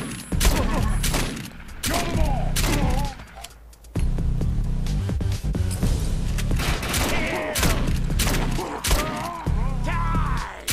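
Sniper rifle and shotgun fire in the shooter game Defiance, loud and dense, with rapid overlapping shots and booms repeating throughout, mixed with game effects and a voice talking over parts.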